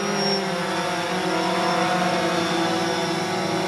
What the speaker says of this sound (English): I'm going to show you sport mode, how it's running. So let's follow the drone out this way.